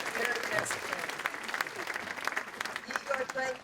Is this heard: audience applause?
yes